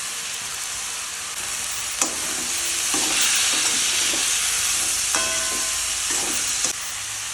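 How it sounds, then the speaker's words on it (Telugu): Onions, tomatoes, ginger and garlic frying in a pan: a continuous close sizzle with a steady hiss, broken by a few sharp clinks of a stirring utensil against the pan. "ఆనియన్స్ ఇలా వేగాలి. వేగాక టమాటాలు,"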